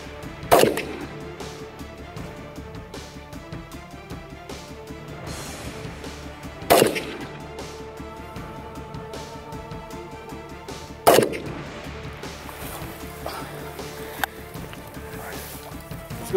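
Three sharp, loud shots from an AK-style rifle spaced a few seconds apart, each a hard crack with a brief ringing tail against low background noise.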